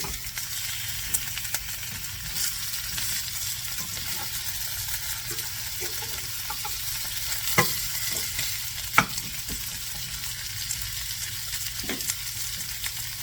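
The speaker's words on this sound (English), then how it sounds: "this is just searing them, getting them ready" Bone-in beef shanks sear in a hot pan with a steady, close sizzle and a few sharp pops and clicks scattered through, with no voices.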